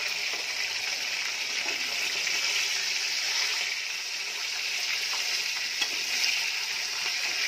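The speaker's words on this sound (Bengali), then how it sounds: "এপাশে আমার দেখুন মাছ ভাজা হচ্ছে" Fish fries in hot oil with a steady, close hiss and crackle that stays even throughout, with a few small pops and no voices.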